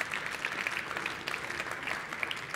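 Audience applause for a panel at a 5G smart-cities conference: a dense, steady wash of many hands clapping together, moderately loud and sustained throughout with no voices over it.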